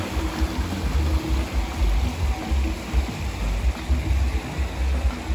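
Flowing river water at a swimming pool on the Río Sonador near Yásica, Puerto Plata, a steady broadband rush close by, continuous and even, with no talking.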